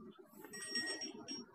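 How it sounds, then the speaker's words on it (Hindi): A bright ringing bell tone in the horror game Granny sustains over a busy mix of low game sounds, clear and close. "वो घंटी बज रही है,"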